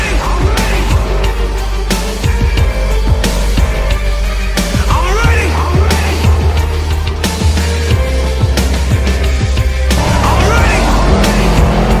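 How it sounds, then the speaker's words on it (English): Off-road race cars at the Mint 400 in the Nevada desert, loud engines revving and roaring close by in repeated bursts over a constant low rumble, with faint voices in the background. "there's race cars everywhere"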